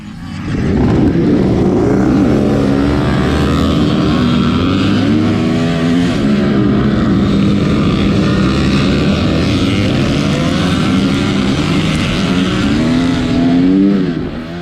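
Dirt bikes racing in a hare scramble, with a loud, continuous two-stroke engine whine that rises and falls as the rider works the throttle, close up from the bike, with no speech.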